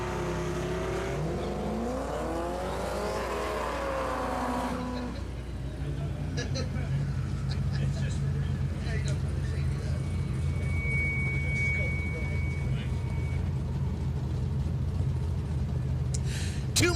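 A drag race with a Firebird launching in the left lane beside another car: loud sustained engine roar rising as the cars take off, with a commentator talking over the first five seconds before the engines dominate.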